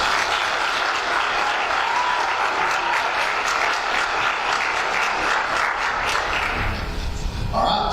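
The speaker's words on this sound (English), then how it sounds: "So give them a round of applause" Applause for athletes at a high school spring signing ceremony, a steady dense roar of many hands clapping that holds loud and even from start to finish.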